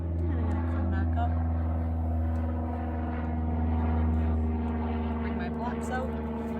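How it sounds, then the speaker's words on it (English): Aircraft, helicopters or airplanes, pass overhead during an outdoor yoga session, producing a steady, loud, continuous engine drone with a tonal hum that swells slightly and never fades out. "listen to the relaxing sounds of helicopters flying overhead or airplanes"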